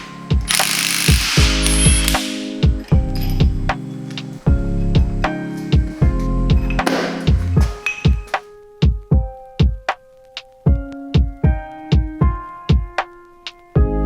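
Ratchet working on the timing components of a Subaru EJ205 engine, first in long continuous clicking bursts, then in short separate click runs with pauses, loud and close with no talk.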